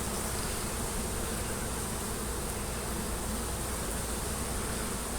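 Honeybees droning from an opened hive during a spring hive split, a dense, steady buzz of many bees very close and continuous throughout.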